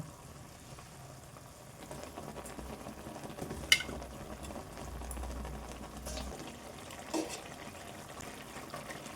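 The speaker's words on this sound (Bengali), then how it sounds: "এবার আবার একটু ভালো মতন ফুটতে দেব।" Bitter gourd leaves boil in a pan, a quiet steady bubbling and simmering with a couple of brief clinks of a utensil.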